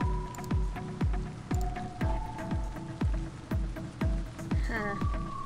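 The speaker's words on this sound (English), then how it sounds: "I run for it through the rain from the sprinklers." Sprinkler rain in a video game patters in a rapid, regular series of drips and squishy splats. A brief rising tone comes near the end, and the sound is moderately loud with no voice over it.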